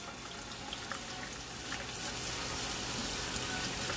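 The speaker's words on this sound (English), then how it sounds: "if you can hear the water running, that's me getting myself to look human again" Tap water runs steadily into a sink as black acrylic paint is washed off an arm after a canvas painting session, a continuous hissing gush that swells slightly partway through, with no talk.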